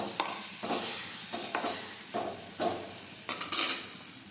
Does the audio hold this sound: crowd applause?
no